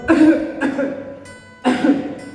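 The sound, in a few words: coughing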